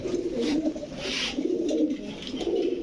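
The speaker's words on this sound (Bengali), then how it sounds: "মাশাল্লাহ খুব সুন্দর তো কবুতরগুলা" Pigeons coo steadily in low, rolling calls, close by, with a faint rustle and hiss mixed in.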